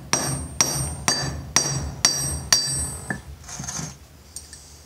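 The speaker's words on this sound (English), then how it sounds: "I got a piece of railroad track here, it's my anvil, and what I want to do, I want to hammer the end flat" A hammer flattens the end of a large nail on a railroad-track anvil: six sharp, ringing metallic strikes at an even pace, close and loud, then quieter scraping and tapping.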